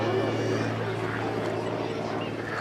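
Engine of a Gerald Cooper XA41 aerobatic aeroplane flying at the Dunsfold Air Show, a steady continuous propeller drone with a low hum, heard at a distance under a commentator's voice throughout.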